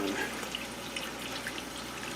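Water running steadily from a tap in an old gardener's yard on a freezing morning, a continuous close splashing rush with faint drips, no talk.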